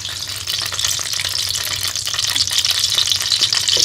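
Sliced onion, capsicum and seeded tomato fry in a pan for chicken shashlik, a dense, loud crackling sizzle that grows slightly stronger, heard close with no speech.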